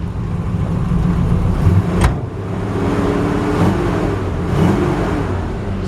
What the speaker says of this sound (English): The engine runs really good.